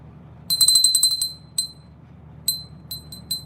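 A phone notification for a live stream plays as bright, glassy chimes: a rapid cluster of tinkling tones, then several short separate pings, clear and close over a quiet low hum.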